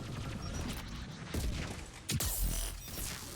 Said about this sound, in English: Oh, I didn't want to detonate tech armor.